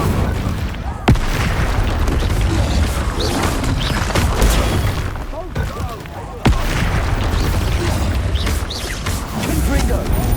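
Confringo fire spell blasts in the Hogwarts Legacy video game, with sharp booming explosions near 1 s and 6.5 s over a dense, continuous roar of combat effects and crackling noise.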